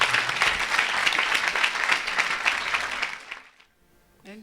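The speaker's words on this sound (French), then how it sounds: "Est-ce qu'on peut acclamer pour Jésus?" A church audience bursts into steady, loud applause with some cheering, sustained for about three seconds before fading out, followed by a brief voice.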